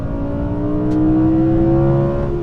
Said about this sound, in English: A V10 howl is so distinctive, and it's just something that makes this car.